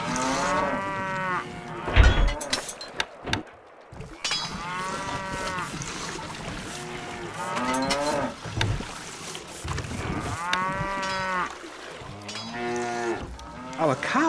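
Cattle in the Stronghold strategy game moo repeatedly, long drawn-out lowing calls with rising and falling pitch that come one after another in close, loud bursts over a farm-like ambience, with no talking.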